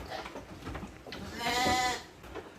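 A sheep in a fattening pen gives one clear, wavering bleat up close, with shuffling and rustling pen noise around it.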